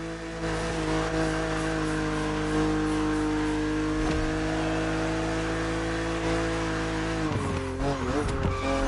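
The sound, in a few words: BMW Z roadster driving in a race, from the video game Motorfest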